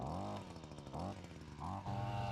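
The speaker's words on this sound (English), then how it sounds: "So I'm going to bring the side-by-side around, hitch it up" A side-by-side utility vehicle engine idles and revs on a farm while juvenile chickens are moved to pasture, its buzzing drone rising and falling in pitch several times, close and fairly loud.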